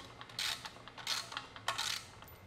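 A bolt is tightened on a Valor Fitness BD-62 wall mount cable station, giving quiet, close metallic ratcheting clicks in three short bursts with faint creaks between them and no talking.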